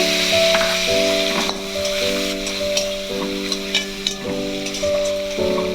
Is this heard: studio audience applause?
no